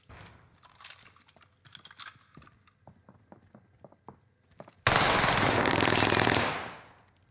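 Warzone gunfire: a run of sharp, separate shots at a quick steady rhythm, then a loud, dense burst of continuous automatic fire that lasts about two seconds and fades out.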